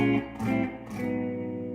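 Slightly overdriven guitar chords in a soulful style slide down and then back up through passing chords, a brief sustained phrase of a few smeared strums, close and moderately loud with no speech.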